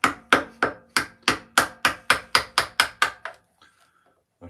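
A wooden mallet taps small carving chisels into wood on a Santa Claus carving, about thirteen sharp, evenly spaced knocks in a steady rhythm, close and clear, then a few faint handling sounds.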